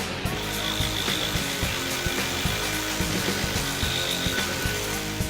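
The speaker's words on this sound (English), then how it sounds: "The 18-volt LXT brushless Reciprosaw" A Makita DJR187 18V LXT brushless reciprocating saw cuts steadily, its rapid back-and-forth blade chatter forming a loud, continuous buzz with rhythmic pulses.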